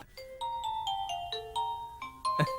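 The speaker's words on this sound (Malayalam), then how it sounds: "It's ringing. ഇത് എടുക്കോ ഇല്ലേ" A mobile phone plays a soft, melodic ringtone of distinct stepped notes in a steady rhythm, faint and unaccompanied by talk.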